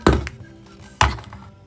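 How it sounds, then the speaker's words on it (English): Storage drawer beneath a tiny-house kitchen stove popping out, two distinct hollow thunks about a second apart, close and fairly loud, with faint rattling between them. "I even have storage under my stove. This here just pops out."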